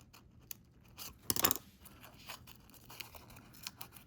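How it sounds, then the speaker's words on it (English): Small scissors make a quick, crisp snip or two while cutting a tiny square of foam tape for a papercraft card, faint and close in a quiet room. "So I'm just going to cut the tiniest little square"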